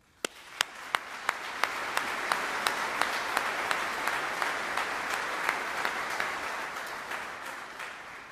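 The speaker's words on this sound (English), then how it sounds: "Please join me in a round of applause for our told soldiers." An audience at an Old Guard military change of command ceremony breaks into sustained applause, with one nearby pair of hands clapping loud, regular sharp beats above the steady crowd clapping.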